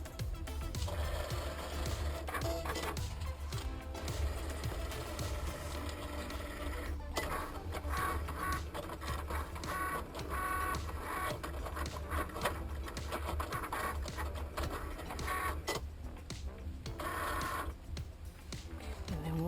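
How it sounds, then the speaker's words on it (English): A Cricut machine cuts permanent vinyl on a mat, giving a steady close mechanical whirring with rapid rubbing and scratching textures and small shifts in pitch throughout. "hit the load button, and then we're going to hit the Cricut button to start cutting"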